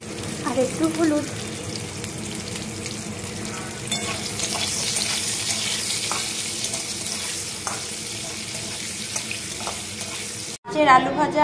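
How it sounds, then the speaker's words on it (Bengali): Potatoes frying in hot oil in a pan after fish, a soft steady sizzle with occasional clinks and stirring, fairly quiet throughout before a brief break near the end. "এবার ওই তেলেই আমি এবার আলুগুলো ভেজে নেব।"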